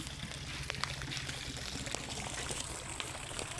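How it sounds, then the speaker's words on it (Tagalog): Rain falls steadily with a dense, wet patter and a few sharper drips and splashes, a continuous wash of sound with no voices. "It's raining."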